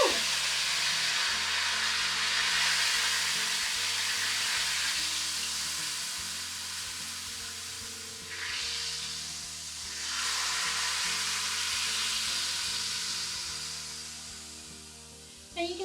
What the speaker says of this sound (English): we're going to deglaze the pan by applying some liquid, and we're going to use the juice of the Rotel